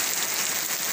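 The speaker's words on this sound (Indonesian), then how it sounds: "Ini kami di sini dalam keadaan hujan lebat" Heavy rain pours down on flooded crop fields where water is overflowing. The dense, loud, unbroken hiss of drops hitting surfaces fills the whole moment on its own.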